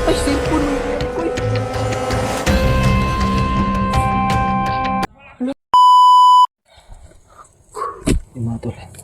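Cellphone beeping: a loud, steady electronic tone lasting about a second, following a burst of shouting and scuffling noise, with faint rustling and a couple of sharp knocks after it.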